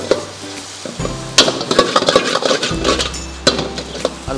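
Porotta pieces torn up for jallicut porotta are stirred and fried in a pan, with a spatula scraping and clinking against the metal over a rising sizzle and some louder scrapes in bursts.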